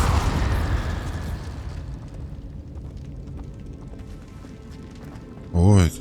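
The Incendio fire spell cast in Hogwarts Legacy erupts in a loud whooshing blast that fades into a crackling rumble, with a voice talking in the game scene.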